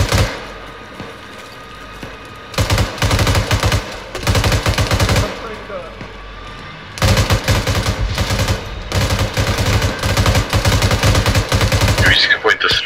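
Bursts of sustained automatic gunfire from a night battle in ArmA 3, set in a Gulf War USMC scenario, rattle loud and close in long volleys separated by brief lulls, with radio chatter mixed in.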